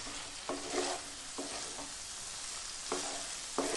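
Diced capsicum and onion pieces sizzling in a pan, with a soft steady frying hiss broken by several sharp bursts as a spatula stirs and tosses the vegetables, heard close with no talking.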